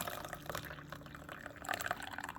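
Water poured for a second steep of loose-leaf tea, a steady, fairly quiet liquid pour with a brief brighter splash near the end and no talk.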